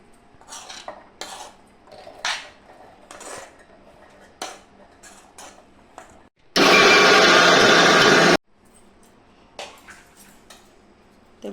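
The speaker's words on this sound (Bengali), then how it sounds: "আমি এখন মিক্সিতে একটু পেস্ট করে নেব।" An electric mixer grinder runs for about two seconds as a loud, steady whirring roar while boiled chana dal is ground into paste, with scattered clinks and taps of utensils and jars before and after.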